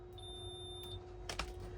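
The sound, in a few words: multimeter beep while testing car stereo resistance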